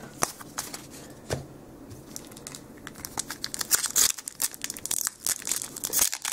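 A Magic: The Gathering Khans of Tarkir booster pack is torn open by hand, with close crinkling and ripping of foil wrapper in irregular bursts that grow busier and louder toward the end.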